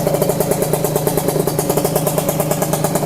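A Honda LS125 motorcycle idles steadily close by after being started, its single-cylinder engine putting out a fast, even pulsing beat with slight clatter, and no voices over it.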